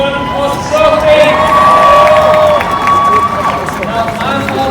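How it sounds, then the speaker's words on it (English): An outdoor pro-Palestinian protest crowd in Leeds cheers and applauds for a speaker named Sophie, loud and close, with whoops and shouting voices over a broad roar of clapping that swells and then eases. "Everybody go and applause Sophie!"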